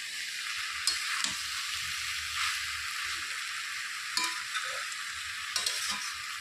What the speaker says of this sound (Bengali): তো 3 থেকে 4 মিনিট ঢেকে রাখার পর আমি ঢাকনাটা খুলে আবারও একটু নেড়ে চেড়ে দিচ্ছি।